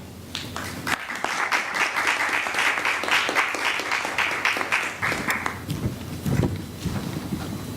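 Sustained audience applause at a conference panel event on peace in Afghanistan, a dense wash of many hands clapping steadily for about five seconds before thinning into scattered claps and faint murmuring.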